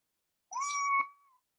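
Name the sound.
cat meowing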